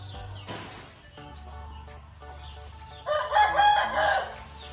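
Rooster crowing in the morning at an elephant enclosure, a fairly loud, wavering call rising over the last two seconds after quieter background sounds.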